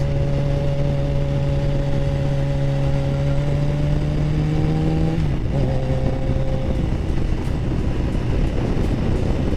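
2008 Yamaha FZ1 motorcycle on a test ride over wet, puddled roads: a loud, steady engine drone holding pitch, then dropping sharply at a shift midway, with road and wind noise throughout.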